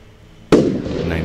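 A single sharp firework burst in the Roblox game Lumber Tycoon 2, a sudden loud pop followed by crackling decay, after a quiet lead-in with faint background sound.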